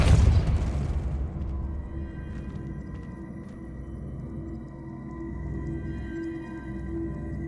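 Spell blast from Depulso cast in Hogwarts Legacy, a loud booming burst at the start that decays into a low rumbling tail.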